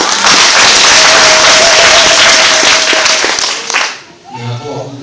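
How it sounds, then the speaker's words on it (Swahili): Church congregation at a jubilee stone unveiling marking 125 years in a diocese, applauding loudly and continuously at close range, with a faint sustained tone in the middle before the clapping thins out and dies away near the end. "Hebu tumtukuze Mungu kwa makofi mengi."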